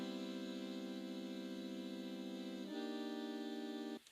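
A plain, dry saxophone holds a steady nasal tone, steps up to a slightly higher note, then stops abruptly; no reverb or effects.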